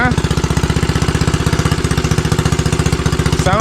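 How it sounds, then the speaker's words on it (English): A Motovox custom mini bike engine idles too high with a loud, close, fast, steady chugging beat that barely changes, and a voice talks briefly over it at the start and end. "Sound like she just idled up too high to me, gang."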